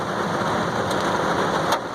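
A summer Florida rainstorm pours steadily with a dense, loud hiss of rain on surfaces, while faint low rumbles that could be distant thunder sit beneath it and two brief sharp ticks stand out near the end.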